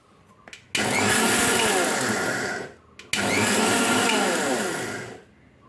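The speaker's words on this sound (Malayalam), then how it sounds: "ഇനി തൊലി കളഞ്ഞു വെച്ചിരിക്കുന്ന ഈ നിലക്കടല നമുക്ക് ഒരു മിക്സിയുടെ ജാറിലേക്ക് ഇട്ട് കൊടുക്കാം." A mixer grinder jar grinds peeled peanuts for homemade peanut butter in a home kitchen. The motor runs in two loud, steady whirring bursts with a short pause between them, and nobody talks.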